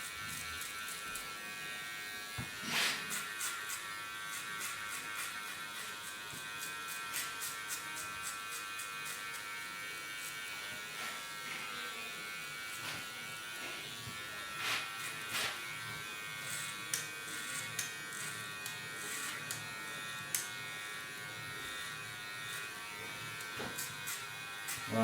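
Electric hair clipper buzzing steadily up close during a fade haircut on a textured mid-length crop, with scattered clicks and brief louder passes as it moves through hair over a comb.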